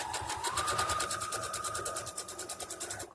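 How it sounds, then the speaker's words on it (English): A sewing machine runs a straight stitch on a dress with a rapid, even clatter of needle strokes, close and steady for about three seconds before stopping. "and I do straight stitch"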